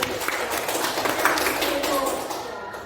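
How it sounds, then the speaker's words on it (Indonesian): A group in a classroom training session claps for a participant, producing a dense, steady patter of hand claps with a voice speaking faintly underneath. "Silakan tepuk tangan untuk Bu Yani."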